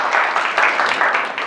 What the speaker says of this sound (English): give a round of applause to Lee Copeland